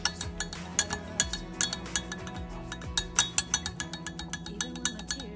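Granola being mixed with oil and honey in a bowl: quick, uneven clinks of a spoon against the bowl come one after another throughout.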